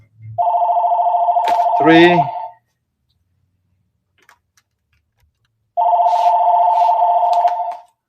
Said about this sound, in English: I'm gonna have to unplug that phone.